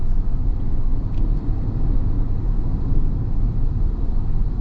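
Deep, continuous rumble of a V8 engine in a 2025 full-size SUV, steady and fairly loud from inside the cabin while driving, with no talking over it.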